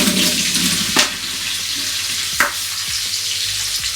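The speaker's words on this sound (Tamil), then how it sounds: "ஒரு 15 வெங்காயம் எடுத்து கட் பண்ணி போட்டுருக்குறேன். இது நல்லா வதங்கட்டும்." A large batch of sliced onions frying in oil in a big pot for chicken biryani, a loud, dense sizzle with two sharp stirring scrapes, close and steady without speech.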